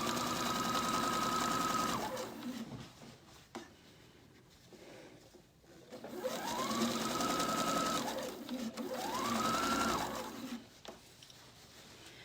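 Sewing machine stitching a sleeve onto a lightweight garment, running in three steady bursts of fast, close rattling with short pauses between, loud and clear with no talk over it.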